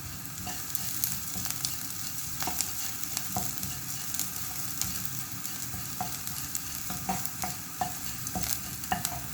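Onion with curry leaves sautés in a pan, a steady close sizzle broken by repeated scraping clicks of a spoon stirring against the pan, with no talking.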